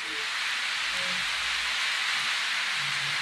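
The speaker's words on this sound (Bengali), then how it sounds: "বৃষ্টিটা এখন লাঞ্চের টাইমে শুরু হয়ে গেল" Rain falls at the Jiyon Resort in Aminbazar, Savar, near Dhaka. It makes a steady, dense hiss with no breaks, heard alone, with no voices.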